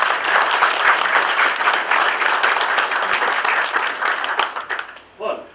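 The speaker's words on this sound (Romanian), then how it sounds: "Aplauze" An audience at a ceremony marking Navrom Delta's twenty years in Romanian tourism applauds loudly, a dense, sustained round of clapping that thins and fades near the end, followed by a brief voice.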